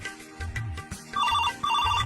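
A telephone rings with a repeating electronic trill, two bursts of bright warbling tone over a soft background, fairly close and moderately loud.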